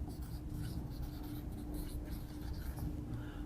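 A pen or chalk scratches steadily across a surface while writing a chemical formula, a soft continuous scraping with faint strokes under a low room hum.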